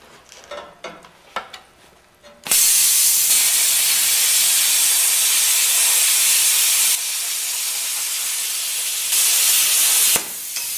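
A plasma cutter slices through steel at maximum amperage, giving a loud, steady roaring hiss that holds for about eight seconds with a brief dip in level, preceded by quieter clatter.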